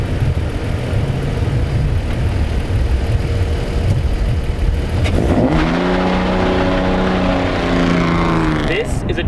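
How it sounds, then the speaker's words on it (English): A 2008 Ferrari F430 Scuderia engine, loud and close, first a steady roar, then revving up sharply with rising tones in its second half. "This is a 2008 Ferrari F430 Scuderia."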